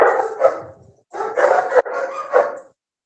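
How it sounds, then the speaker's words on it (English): An older rescue dog, about nine or ten years old, barks close and loud in quick bursts of several barks, with a brief pause midway and no talking. "This dog is named Skippy"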